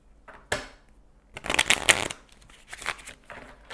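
Tarot cards riffle-shuffled in a few quick bursts, crisp fluttering ripples close by, with short pauses between shuffles and no talking; the shuffler's finger has a Band-Aid on it.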